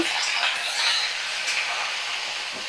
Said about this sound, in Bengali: তো সমস্ত মানে সবজি আমি ভালো করে মিশিয়ে নিচ্ছি, নাড়াচাড়া করে নিচ্ছি। মিডিয়াম ফ্লেমে রেখে আমি রান্নাটা করছি।